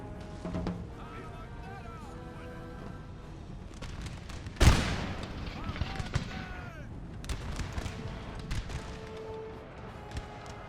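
In Napoleon: Total War, a musket volley erupts as one loud, sharp crackling blast across a bridge battlefield, trailing into scattered shots and battle noise, with voices talking throughout.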